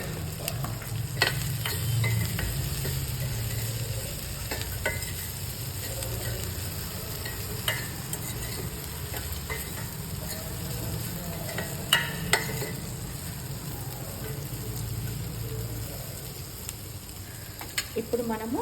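Sliced okra fries in a pan of AMC cookware for a bendakai curry, a steady broad sizzle with scattered clicks and scrapes of stirring running throughout.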